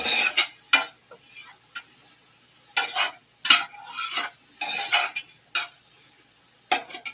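Onions for chili caramelizing in a pot, heard as intermittent scraping stirs of a utensil against the pot with a soft sizzle between strokes, close and fairly quiet.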